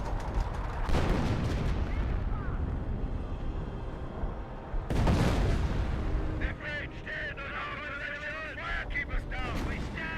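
Artillery barrage in Company of Heroes, deep rumbling booms and blasts rolling on continuously, with a heavier burst midway and sharper crackling impacts later, all fairly distant and steady.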